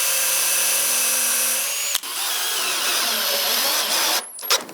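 Power drill driving 2 1/4 inch screws into a wooden joint of a triangle end table: a steady high motor whine, a brief stop near two seconds, then more drilling ending with a few short bursts.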